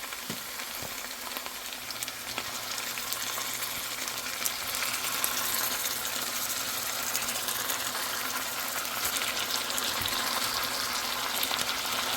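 Chicken pieces fry in a pan over medium heat, giving a steady, close sizzle and crackle of hot oil throughout, with no voices.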